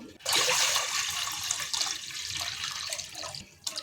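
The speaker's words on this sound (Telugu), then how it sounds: "రైస్ కోసం వాటర్ అయితే తీసుకుంటున్నాం" Water pouring into a bowl for boiling rice for homemade chicken biryani: a strong, close stream that starts suddenly, runs steadily for about three seconds, then cuts off with a few trailing drips.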